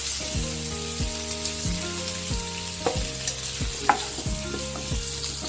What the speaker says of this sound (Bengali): আলুটাকে একটু লাল করে ভেজে নেব